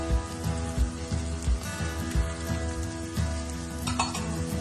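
Ground spices (turmeric, cumin powder, salt and red chili powder) roast in a pan with a crackling sizzle, broken by soft repeated knocks and scrapes of stirring, close by with nobody talking.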